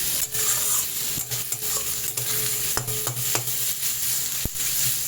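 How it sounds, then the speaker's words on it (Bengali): Chopped onions stirred and frying in a pan for a mustard fish curry, a steady loud sizzle broken by repeated clacks and scrapes of the spatula. "পেঁয়াজগুলো একটু নাড়াচাড়া করে নিই।"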